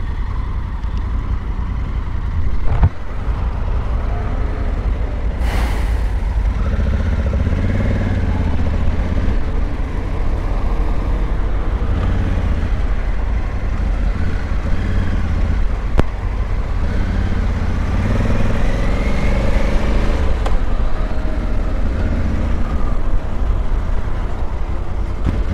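Low Honda Africa Twin 1100 Adventure Sports engine rumble while maneuvering slowly, steady with small rises and dips in throttle, a passing bump or two, no talking.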